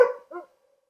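A pig dog named Stu, in training at a live pig bail, gives one short sharp bark followed quickly by a softer second yip, close and clear.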